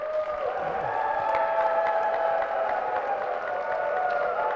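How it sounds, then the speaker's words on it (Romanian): A studio audience at a Romanian television entertainment show applauds and cheers steadily, a dense sustained crowd wash with no break, loud and close throughout. "Vă rugăm, aplauze, vă rugăm."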